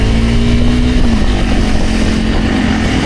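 An enduro motorcycle ridden off-road at night through a forest, its engine droning loud and close with a steady tone that dips slightly, under constant wind rush from the ride.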